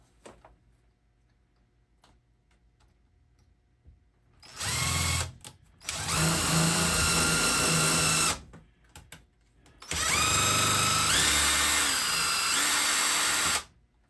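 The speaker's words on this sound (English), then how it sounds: "And then one last hole to drill." Up close, a power drill boring a screw hole for a can crusher runs in three loud bursts, the speed dipping and rising, with faint ticking and handling noise in the quiet gaps.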